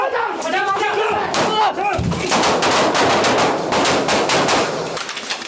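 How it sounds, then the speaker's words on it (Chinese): Rapid, loud bursts of gunfire crack out in quick succession during an armed police raid on a gun-crime suspect holed up in a budget hotel room in Tainan, with shouting voices mixed in among the shots. "嫌犯看到警方坐上门，并无投降，颠倒是开枪来还击"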